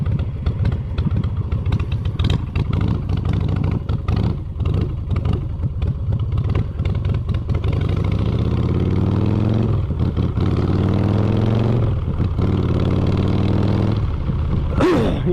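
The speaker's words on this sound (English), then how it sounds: "I raised the idle on this a little bit" A motorcycle with its idle raised slightly runs steadily and close by, a low rumbling idle with some clatter and small revs, with wind noise over the microphone.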